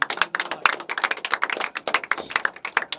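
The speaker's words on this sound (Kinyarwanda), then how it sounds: "Wow, amashyi menshi cyane" Dense, lively applause from a church audience at a Seventh-day Adventist gathering in Remera, with rapid overlapping claps in a steady crackling patter that holds for the whole stretch. Nobody speaks over it.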